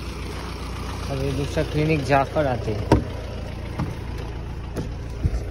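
A car engine idles steadily at low level after arriving, its low rumble continuous beneath a man's and others' speech in Hindi.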